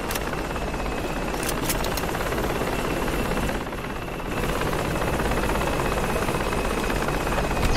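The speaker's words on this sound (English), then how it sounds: "Just a pilot on the chopper." A video game helicopter with a pilot on board hums steadily with rotor and engine drone, loud and continuous throughout, with a brief dip in level partway through and no voices.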